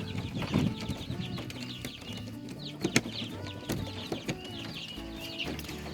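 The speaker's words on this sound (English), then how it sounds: "we have 5 hens and a rooster in here" Five hens and a rooster in a backyard coop cluck and murmur continuously nearby, with a few sharper squawks and some wing flapping, at a moderate volume and with no talk.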